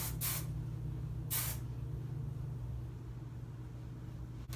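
Hairspray is misted onto curled hair in two short, close hissing bursts over a quiet, humming room.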